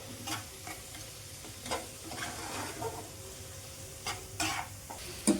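Cumin powder sizzles and fries in a pan while a utensil stirs it in repeated scraping strokes, part of making a Bengali mango katla fish curry. The frying hiss runs steadily under the close, intermittent stirring, with no talking.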